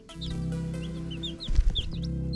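Chickens in a chicken run give soft close clucks and chirps over a steady background hum, with a louder rustle or bump near the end.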